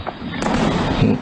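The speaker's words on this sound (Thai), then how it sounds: "เสียงปืนเล็กดังลั่น" Sharp small-arms gunshot cracks burst out over a noisy outdoor background near the Thai–Cambodian border in the evening, with a faint voice nearby.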